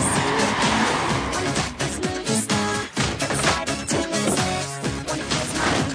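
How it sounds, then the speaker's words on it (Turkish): A fast car in a TV series trailer roars with what may be tire squeal, mixed under loud music with punchy hits and sudden drops. "Hızlı bir araba."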